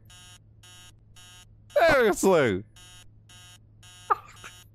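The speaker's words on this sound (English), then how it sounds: "Shut up, stupid alarm clock." An alarm clock in the horror game Emily Wants to Play Too beeps in steady, evenly spaced pulses, while someone shouts briefly over it in the middle and near the end.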